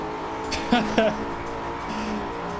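A Peugeot 206 engine in the racing video game Driveclub holds a steady, close drone under a brief spoken voice.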